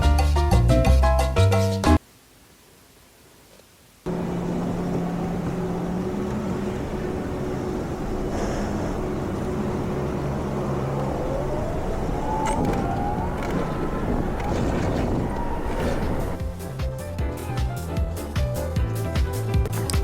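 Go-karts lapping an indoor karting track in Edinburgh: a steady engine drone with a rising, whining pitch, cut by a short silent gap near the start, with brighter tonal sounds at the opening and close.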